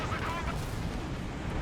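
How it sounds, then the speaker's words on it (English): Artillery fire in Company of Heroes 2: a dense rumbling barrage of booms filling a short burst, loud and continuous, with a voice talking over it. "artillery coming in on Kimbo's packs"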